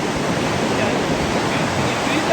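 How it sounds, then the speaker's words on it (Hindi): The Spiti River rushes steadily at its confluence with the Sutlej, a loud, continuous broadband roar of flowing water heard from a bridge, with wind noise mixed in. "ये उधर से आ रही है स्पीति रिवर,"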